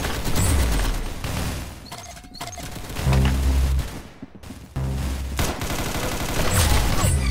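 Rapid bursts of gunfire from the Roblox shooter game Arsenal, in repeated fusillades with short gaps and a few heavier booming shots, loud and continuous with no speech.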